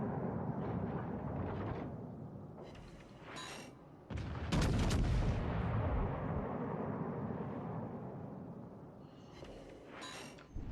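Naval ship guns fire in a warship battle game against a Kuma cruiser. A heavy booming salvo lands near the middle and a long rumbling tail decays after it, with lighter shots and crackles around it.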